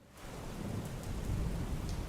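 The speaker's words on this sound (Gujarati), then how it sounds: "પંચમહાલમાં ગોધરા શહેર સહિત પંથકમાં વરસાદી માહોલ જામ્યો છે" Steady heavy rain pours down over Godhra in Panchmahal, with low rumbling thunder rolling underneath, a continuous wash of sound without any voices.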